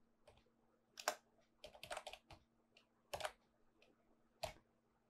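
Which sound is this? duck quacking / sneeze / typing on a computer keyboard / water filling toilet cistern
typing on a computer keyboard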